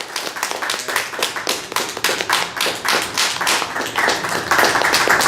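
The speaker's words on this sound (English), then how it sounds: "lots of applause" Museum auditorium audience applauds after a two-sword swallowing finale, with close, sharp, uneven handclaps from a small crowd building into a quicker, denser patter.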